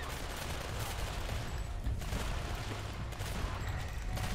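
Dense, rapid SMG fire rattles continuously in Primal Carnage Extinction, a loud unbroken barrage of shots with brief dips, heard alone without voices.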